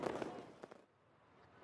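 Fireworks go off over Beijing on Chinese New Year's Eve: two sharp, crackling bursts close together near the start, then a quieter fading tail with no voices.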